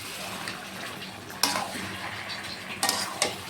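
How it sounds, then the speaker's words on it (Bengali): Chicken gizzard and liver stir-fried in a pan with salt, a steady sizzle broken by a few sharp scrapes and clanks of the spatula against the metal. "দিয়ে এবার ভালো করে এগুলো কষাবো।"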